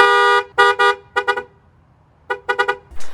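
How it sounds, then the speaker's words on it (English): Horn of a Ford Maverick XL Hybrid pickup heard from inside the closed cab: several loud, close honks, one long blast followed by short double and triple toots with quiet gaps between. "That's the horn. So it makes the horn really loud on the interior."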